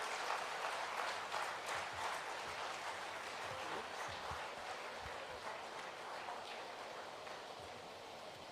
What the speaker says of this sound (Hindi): सबसे अनुरोध है जोरदार तालियां बजा करके